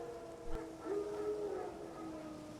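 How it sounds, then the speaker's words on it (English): Wild dogs howl in The Witcher 3 video game: a drawn-out, wavering howl rises and holds for about a second, with a fainter second voice trailing after it over a low ambient bed and a soft thump. "Wild dogs. Yes. More dangerous than wolves."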